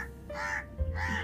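A crow gives two harsh, nasal caws in quick succession, fairly close and clear over a faint low hum.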